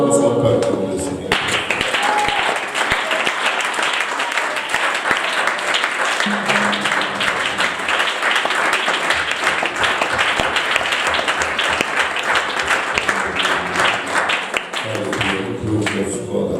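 A church congregation applauds and cheers in sustained clapping for well over ten seconds, with voices mixed in and a person speaking over the noise.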